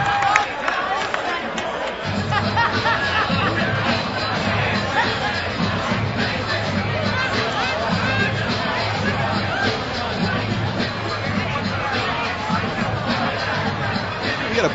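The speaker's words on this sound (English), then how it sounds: "The crowd really giving Martin a great show of respect." An arena crowd at an MMA event applauding and murmuring after a fight, a steady wash of crowd noise under continuous commentary voices.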